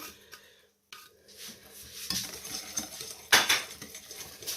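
Cookie dough with orange and lemon zest mixed in a bowl, a spoon knocking and scraping against the sides in uneven close strokes, getting busier and louder toward the end.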